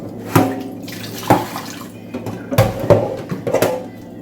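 Tap water splashes in a sink while chicken wings are washed, with irregular bursts of splashing and sloshing, several sharp hand movements in the water, and quieter gaps between them.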